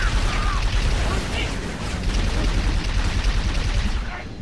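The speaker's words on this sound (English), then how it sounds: "Who else is shooting at me?" Dense gunfire on the Powerhouse map in Halo Reach on Legendary, rapid overlapping shots and booms in a loud continuous barrage.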